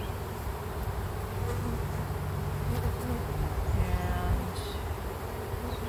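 Honey bees buzz steadily during a beehive inspection, a dense, continuous hum from many bees close by that swells slightly midway, with no voices.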